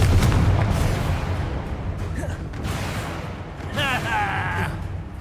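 Confringo and Expulso blasting spells detonate during a Hogwarts Legacy trial, with deep rumbling booms, the heaviest at the start, and a short raised voice near the end.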